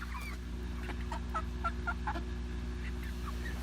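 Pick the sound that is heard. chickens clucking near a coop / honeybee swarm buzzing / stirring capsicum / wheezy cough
chickens clucking near a coop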